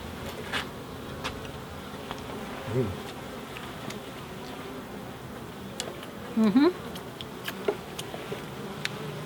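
Honey bees buzz softly and continuously nearby at a hive, with a few louder passes close by and scattered small clicks.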